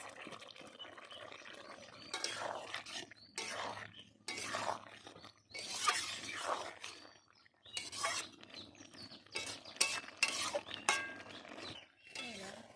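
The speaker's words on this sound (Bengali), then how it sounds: "দিয়ে দেবো ভেজে রাখা মাছ" Cabbage curry with green peas cooking in a pan as pre-fried fish goes in, with intermittent clinks and scrapes of a utensil against the pan and soft stirring, moderately close with pauses between bursts.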